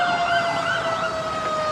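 Fire truck siren wails at a fire in Obrero, Quezon City as firefighters arrive, a loud, steady sweeping tone over traffic noise and crackling in a crowded street.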